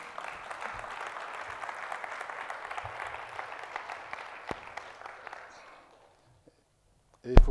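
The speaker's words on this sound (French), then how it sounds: "On les applaudit bien, bien fort." Applause from a church congregation after a worship team's song, a dense steady wash of clapping that fades out over about six seconds, followed by a brief silence and a sharp sound at the very end.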